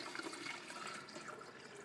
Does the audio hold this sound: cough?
no